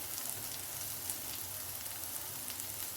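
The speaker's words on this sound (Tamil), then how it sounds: "நான் கொஞ்சம் சின்ன வெங்காயம் பூண்டு கட் பண்ணி வச்சுருக்கேன், இதை போட்டுறேன். நம்ம நல்லா வதக்கி எடுத்துடலாம்." Sliced shallots and garlic sauté in oil with salt in a pan, a steady close sizzle and crackle running evenly throughout with no voices.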